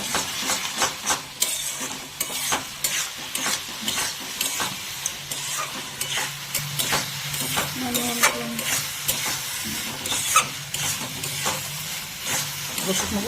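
Chicken liver masala frying in a pan, with steady sizzling broken by repeated scraping stir strokes of a spatula, close and fairly quiet, with no talk.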